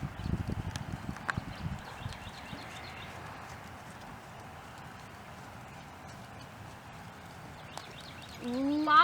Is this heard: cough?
no